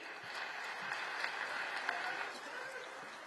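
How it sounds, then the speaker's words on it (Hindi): A crowd at a statue unveiling ceremony applauds, a soft, distant wash of clapping that continues steadily for a few seconds with faint voices underneath. "जोरदार तालियां लगातार बजती रहनी चाहिए"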